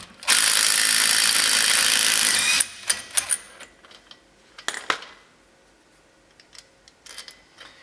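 Ratchet with a 28 mm socket turning an axle bolt on a 2004 Polaris Ranger 6x6, a long steady run of rapid clicking for about two seconds, then scattered metallic clinks and taps, close up with no voices.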